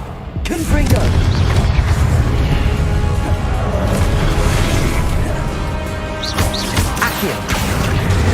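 Confringo fire-spell explosions from Hogwarts Legacy combat on hard mode, loud booming bursts and crashing impacts in rapid succession over a dense, continuous battle din, with game voices mixed in.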